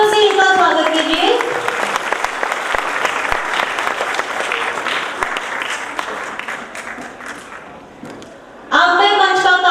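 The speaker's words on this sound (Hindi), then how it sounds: "तालियों से इनका स्वागत कीजिए।" An audience at a Dr. Ambedkar Jayanti stage event applauding performers in character roles, a long steady run of clapping that fades slightly toward the end, with a voice speaking over it at the start and another taking over at the close.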